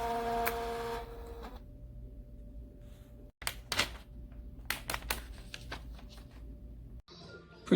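A Phomemo M08F thermal tattoo stencil printer hums steadily, then gives a run of sharp mechanical clicks and clacks as it feeds and prints, fairly quiet and close by.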